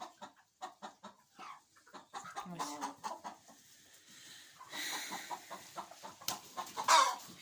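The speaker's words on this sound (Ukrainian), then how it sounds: "Мало курей, але все одно щось ходять, он, гребуться в землі, щось шукають." A few chickens scratching in the dirt of a farmyard cluck in short, irregular bursts, fairly faint, with a louder squawk near the end and some outdoor noise between calls.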